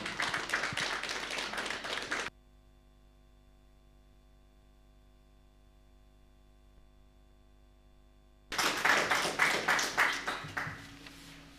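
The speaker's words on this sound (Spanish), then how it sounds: "vamos a recibir con un fuerte aplauso" Clapping from a congregation at an evangelical prayer service, two bursts of dense hand claps separated by a long quiet stretch with faint steady hum.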